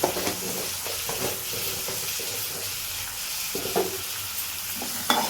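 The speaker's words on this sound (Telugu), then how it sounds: "దీన్ని ఇలా కొంచెం సిమ్లో పెట్టి ఇది వేగుతూ ఉంటుంది" Tomatoes fry in a pan on a low flame with a soft, constant sizzle, broken by occasional clinks and scrapes of stirring.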